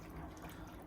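Water poured into a pasta sauce in a kitchen, a brief steady rush of running liquid, close and continuous.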